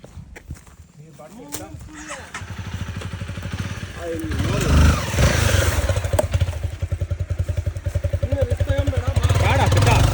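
A motorcycle engine runs nearby, a rapid throbbing putter that grows louder and steadier over the stretch, with people talking close by over it.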